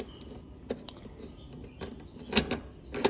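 A mobility scooter armrest slides into its mount with scraping, clicking mechanical sounds and a couple of sharper knocks near the end, close and fairly quiet.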